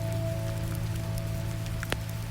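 Continuous rain patters against the outside of a hotel room window, muffled and steady beneath a low room hum, with one brief sharper tap near the end and no speech.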